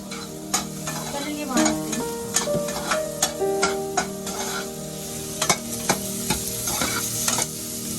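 Maggi noodles cook with capsicum and onion in butter while a spoon stirs the pan, with a constant close sizzle broken by repeated sharp scrapes and clinks in an uneven rhythm and a faint whistle-like tone in the background.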